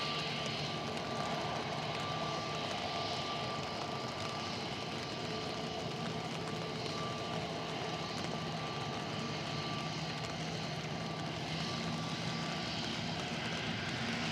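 An EasyJet passenger jet departs Manchester Airport, its engines a steady, fairly distant broadband roar that holds evenly throughout, faint overall and with no voices over it.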